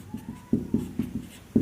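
A pen scratching across paper while writing out a maths equation, in short strokes and taps with an irregular rhythm, close and fairly clear, no voice heard.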